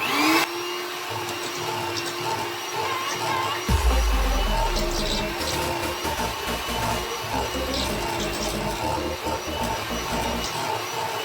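An electric mixer whirs steadily while blending an egg into chocolate chip cookie dough, a continuous motor drone with a brief lower churning surge near the start as the beaters work the dough.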